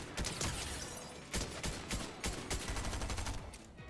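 Rapid gunfire in the video game Fortnite, with several bursts of shots in close succession ringing out loud and near over a busy game soundscape.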